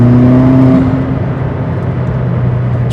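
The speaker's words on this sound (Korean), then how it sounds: "뒤에서 뿜어나오는 이런 사운드들, 엔진 소리하고 배기 사운드들이 조금 더 안으로 잘 들어오게 됩니다" A Ferrari SF90 Spider hybrid supercar drones steadily, its engine and exhaust heard from inside the cabin as a loud, close, continuous rumble with a low hum that settles to an even whir, with no talk.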